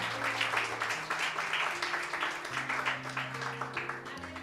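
A church congregation claps in a loose, roughly rhythmic pattern at moderate volume, with a sustained organ or keyboard chord droning underneath throughout.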